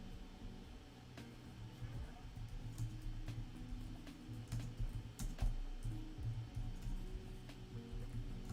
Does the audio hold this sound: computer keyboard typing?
yes